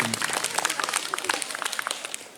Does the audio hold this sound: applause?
yes